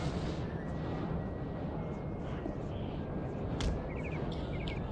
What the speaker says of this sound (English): hopefully we'll be able to avoid too many hits from their artillery